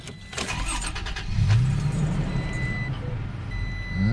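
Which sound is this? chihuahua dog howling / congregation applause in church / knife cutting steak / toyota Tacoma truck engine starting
toyota Tacoma truck engine starting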